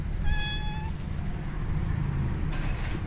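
A kitten gives one drawn-out meow near the start, clear above a steady low rumble that continues throughout, with no one talking.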